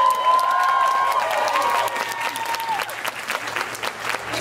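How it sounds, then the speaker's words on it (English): An audience at a costume fashion event claps and applauds loudly together, the dense clapping holding steady and then thinning out a little toward the end, with no voices over it. "Anyone who didn't clap will be getting a detention."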